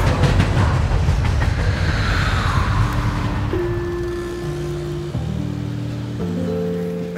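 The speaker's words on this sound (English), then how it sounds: "And let's get on the train." Passenger train running on the rails on the way to Rome, a steady loud rumble with rhythmic clatter and rising tonal hums as it travels, no voices.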